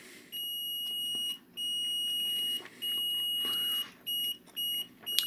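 A motion detector alarm wired up in a lab emits loud, high-pitched electronic beeps, long sustained tones first and then shorter rapid bursts, with brief gaps between them.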